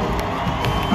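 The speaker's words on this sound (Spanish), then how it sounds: "Un aplauso a esta banda." Concert crowd at a show in Sunrise, Florida cheering loudly for the band, a dense, roaring mass of shouts and whoops with clapping mixed in, sustained at full volume.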